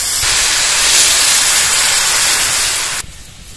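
Water poured onto vegetables frying in a pan for vegetable soup bursts into a loud, close hissing sizzle of steam that holds steadily for a few seconds before dropping off sharply.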